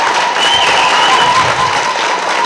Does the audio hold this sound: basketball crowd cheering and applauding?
yes